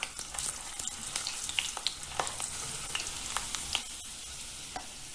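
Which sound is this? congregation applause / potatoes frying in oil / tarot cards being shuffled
potatoes frying in oil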